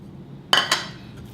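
A utensil stirring cake batter in a bowl, giving two quick, bright clinks against the bowl in close succession over a quiet background.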